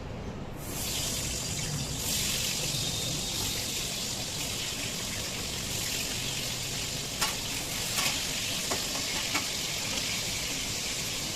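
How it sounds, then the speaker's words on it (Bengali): Potatoes fry in hot oil, giving a loud, close, continuous sizzle that starts abruptly and holds steady, with a few faint clinks near the end and no voices. "তেলটা গরম হয়ে গেছে আগে আলুগুলো ভেজে নিই"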